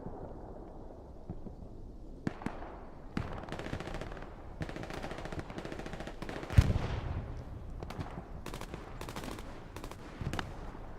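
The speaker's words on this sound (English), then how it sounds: "Ripping that MG through those hedgerows." Machine gun bursts rattle again and again in the World War II shooter Hell Let Loose, with sharp repeated shots and a heavy blast near the middle, all loud and close with no talking.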